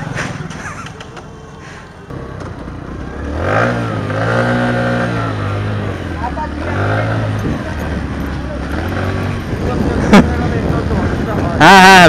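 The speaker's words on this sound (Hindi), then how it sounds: "अभी तो भगा रहे हैं भाई क्योंकि बाइक बहुत ज्यादा हेजिटेट कर रहा है एक्चुअली।" A Platina motorcycle engine revs close by, rising and falling in repeated surges, then sagging and hesitating before picking up again, with wind and road noise beneath and a sharp click near the end.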